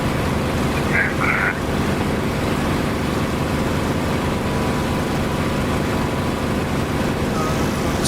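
An aircraft engine in the DCS flight simulator game gives a continuous, even drone at moderate level, with a faint higher chirp near the start, and no voices over it.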